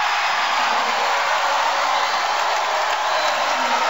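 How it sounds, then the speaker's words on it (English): Crowd at a volleyball match applauding and cheering, a dense, steady roar of clapping and voices filling the whole stretch without a break. "Kaufman gets all the applause."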